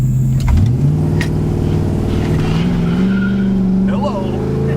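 Q-jet carbureted dually truck pulling away from a dead stop, its engine note rising steadily and loud up close throughout, with a brief squeal early on.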